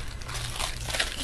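A plastic laminator carrier sheet is laid over cardstock topped with Minc foil, giving close, soft, irregular crinkling and rustling for just over a second.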